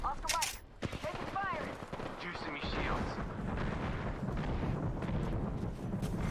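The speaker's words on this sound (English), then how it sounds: "Artillery shelling from Jay" Artillery shelling from the video game Apex Legends lands as dense, rumbling blasts and rolling gunfire under a voice, which breaks in briefly at the start.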